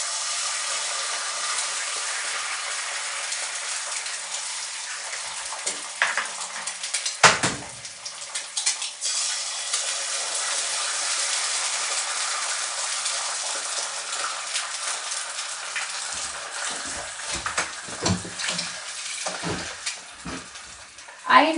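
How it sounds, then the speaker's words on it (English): Two fresh eggs cracked into a very hot cast iron pan sizzle with a steady, hissing fry that carries on throughout, broken by a few clanks and knocks near the start and toward the end. "I've got 2 eggs here from my ladies, and I'm going to crack those into this still very,"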